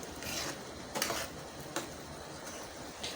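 Masoor dal with drumstick greens is stirred in a pot: a quiet, soft scraping with a few sharp spoon clinks against the metal, and no voices.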